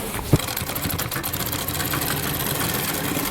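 A sewing machine stitching straight seams on cloth, running in a steady fast mechanical whir with a rattling needle rhythm, close and continuous after a brief knock.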